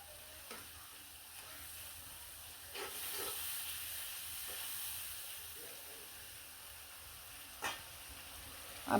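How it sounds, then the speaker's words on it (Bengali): Turmeric, chili, cumin and salt are stir-fried in a pan, giving a faint, steady hiss of sizzling with a few soft scrapes of a spoon now and then. "সবগুলো ময় মশলা কিন্তু দিয়ে দিলাম দিয়ে ভালো করে কিন্তু কষিয়ে নেবো"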